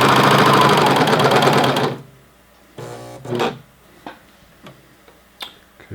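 Short close burst of a sewing machine stitching an elastic waistband, a fast buzzing run for about two seconds, then scattered light clicks and handling taps as the needle stops.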